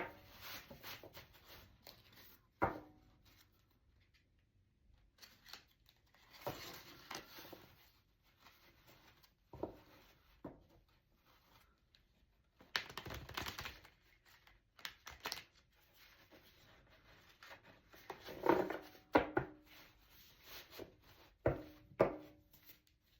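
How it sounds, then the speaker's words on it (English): A new deck of tarot cards being shuffled: several short, soft bursts of papery rustling and riffling, spaced apart and separated by quiet stretches, with no talking. "I'm going to shuffle for Maureen now."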